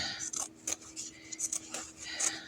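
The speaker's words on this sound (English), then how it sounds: "I'm going to cut off that little rando piece there." Scissors snipping off a small silicone piece during a crafting session, heard as several quick, close metallic cutting snips in an uneven rhythm over a quiet background.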